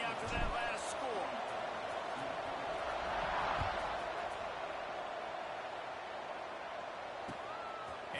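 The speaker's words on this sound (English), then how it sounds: "this crowd is buzzing after that last score" A football stadium crowd buzzes after a score, a broad, steady roar of many voices under a commentator's talk, with a few scattered shouts and thumps.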